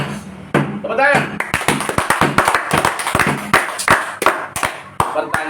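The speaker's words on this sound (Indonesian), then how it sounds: "Tepuk tangan" A lecture audience claps hands together, a brisk burst of many overlapping claps that runs steadily for several seconds and is loud and close.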